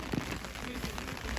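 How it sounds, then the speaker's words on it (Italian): Steady rain falling over an outdoor football pitch during an amateur league match, a continuous broadband hiss that holds at an even level throughout without any distinct impacts. "E allora pioggia che ora aumenta la sua intensità"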